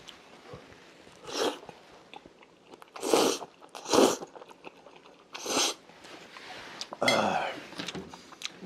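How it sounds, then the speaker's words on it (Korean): Someone eats shrimp tomato spaghetti close to the microphone, with a handful of separate soft bites and chewing crunches spread unevenly over a quiet background, plus faint mouth sounds between them. "조개 대신 새우를 먹고 있습니다"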